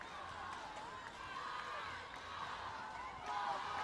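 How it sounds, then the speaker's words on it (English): A dense, steady roar of cheering comes from the crowd at a Pacific Mini Games women's football match between Vanuatu and Fiji, continuous and excited throughout. "Oh, the crowd is in frenzy."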